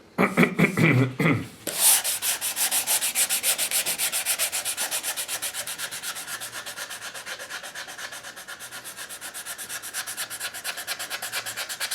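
A 120 grit sanding block rubs steadily back and forth over an English walnut gunstock, a close, continuous rhythmic scraping that follows a brief burst of handling at the start.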